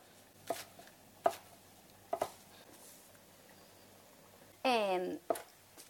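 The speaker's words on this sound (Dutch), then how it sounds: "Dan ga ik maar verder met andere groenten te snijden" Sparse knife chops land on a cutting board as vegetables such as bell pepper and spring onions are cut, a few isolated thuds spaced apart, followed by a brief rustling scrape.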